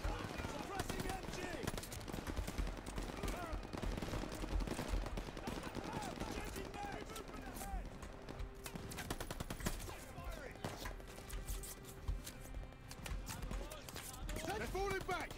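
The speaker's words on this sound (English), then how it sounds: "Suppressive fire, now!" Sustained machine-gun suppressive fire in a Call of Duty: Vanguard battle against a half-track, dense rattling bursts and gunshots running the whole stretch with shouted combat voices over the din.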